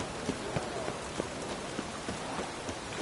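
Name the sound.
rain falling in a video game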